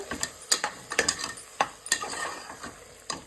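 A spoon stirs pepper powder and other ingredients through goat liver biryani in a pan, giving close, irregular metallic scrapes and clinks over a light sizzle, with no talk.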